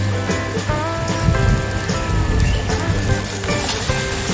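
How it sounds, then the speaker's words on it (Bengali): Chopped onion and garlic fry in hot oil, giving a steady, dense sizzle and crackle close by that runs without a break, with no voices over it. "পেঁয়াজ আর রসুনটাকে হালকা একটু লাল করে ভেজে নিতে হবে"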